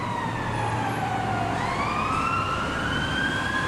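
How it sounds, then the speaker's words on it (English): Ambulance siren on a New York street in the Lower East Side near Chinatown, wailing loud and close with steady rising and falling sweeps over continuous traffic rumble. "There's an ambulance coming up."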